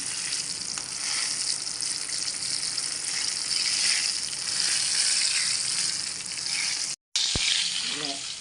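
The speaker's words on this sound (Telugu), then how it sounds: "ఇలా నూనె సరిపడా వేసుకొని చక్కగా వేసుకోవాలి మెర్రగా వేగేదాకా" Chilli bajjis deep-frying in plenty of oil, a loud continuous bubbling sizzle held close, cut by a brief dropout near the end before the frying resumes.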